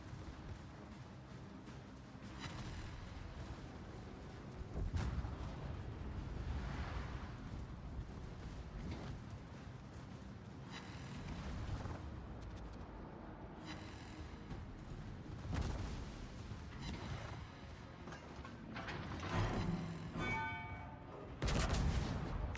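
Torpedo hits and explosions rock a warship in World of Warships, heard as a series of heavy booms and blasts spaced across the clip, with bursts of gunfire between them and no talking.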